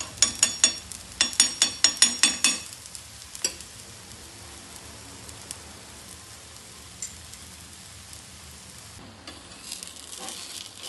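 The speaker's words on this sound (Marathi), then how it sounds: "बाजूने तूप सोडायचं। अशा प्रकारे तूप सोडून द्यायचं।" Malpua, a traditional Indian pancake, frying in a pan as ghee is poured around its edge, a bubbling sizzle with a burst of crackling pops early on that settles into a softer, steady fry.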